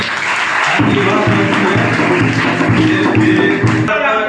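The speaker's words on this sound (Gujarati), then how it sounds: "એટલે બાલકદાસજી માટે જોરદાર તાળીઓ છે" An audience gives a steady round of clapping for Balakdasji at a gathering, a dense continuous patter of many hands lasting several seconds over a low background hum.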